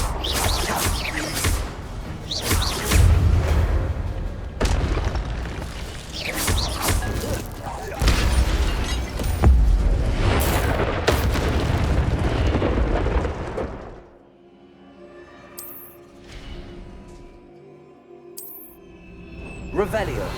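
Incendio fire spell cast in the Hogwarts Legacy video game, a loud roaring burst of flame with heavy thumps and crackling debris for several seconds before fading into quieter game ambience, with speech over it.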